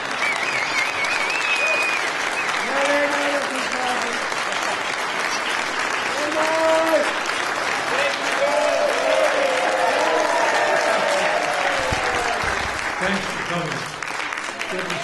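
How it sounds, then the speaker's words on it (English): A concert audience claps for a performer and Dave Obey as they take a bow, sustained applause filling the room while voices speak and call out over it. "Keep clapping."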